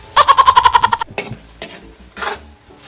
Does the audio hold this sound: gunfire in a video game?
no